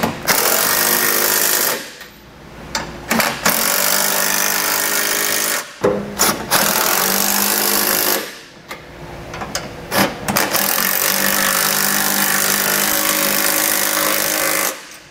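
Power tool driving a 19 mm socket onto carriage bolts while fitting a Curt trailer hitch receiver to a 2017 Mercedes-Benz, a loud sustained whirring rattle in long bursts broken by short pauses.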